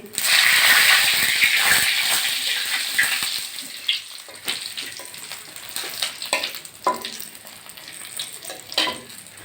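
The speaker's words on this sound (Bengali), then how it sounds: "এই যে সাদা জিরে ফোড়ন দিচ্ছি আর শুকনো লঙ্কা আর তেজপাতা ফোড়ন দিচ্ছি" Cumin seeds, dried red chili and bay leaf tempering in hot oil for a chickpea dal: a loud, close sizzle that slowly settles into softer crackling, with stirring scrapes and light clinks.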